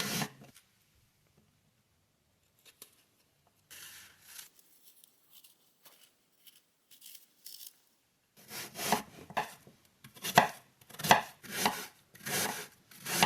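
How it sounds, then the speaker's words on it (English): A knife chops peeled apples on a board, first a few scattered cuts and quieter scraping, then a run of brisk, close, rhythmic chops toward the end. "Peel and chop 2 apples."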